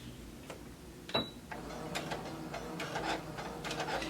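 A sewing machine runs a short forward-and-back stitch on a half circle skirt seam, its needle mechanism clattering in quick mechanical bursts with a sharp click near the start, close and alone without talk.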